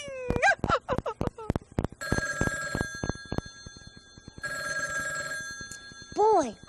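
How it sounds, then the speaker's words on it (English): Telephone bell ringing in short repeated bursts of clattering rings, alternating with gaps and a voice speaking in between. "Oh, ring, little telephone, ring."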